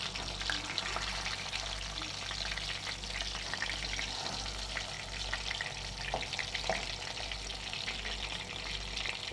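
Pizza fries deep-frying in a pan holding one cup of preheated oil, giving a steady, dense sizzle with occasional pops and a low hum underneath, continuous throughout.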